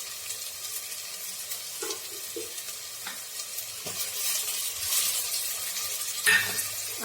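Masala with turmeric and chopped tomato fries in a pan for crab curry, a soft steady sizzle with occasional scraping stirs and light clinks of the utensil, close and quiet, no voices.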